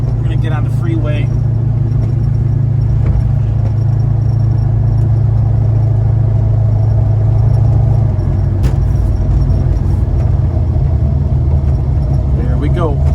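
Restored 1970 Dodge Charger pulling onto a freeway, a loud, steady low engine rumble heard from inside the cabin throughout, with a brief clink near the start.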